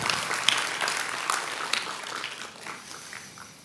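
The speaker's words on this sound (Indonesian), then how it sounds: "Boleh tepuk tangannya diperpanjang untuk tim praise and worship kita" A church congregation applauds the praise and worship team, a burst of many clapping hands with some bright sharp claps standing out, then slowly thinning and fading toward the end.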